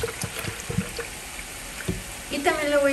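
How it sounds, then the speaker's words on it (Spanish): Canned evaporated milk poured into a blender jar, a short liquid splashing and glugging pour close by, beginning with a few light knocks and swelling toward the end. "En la licuadora voy a agregar una lata de leche evaporada."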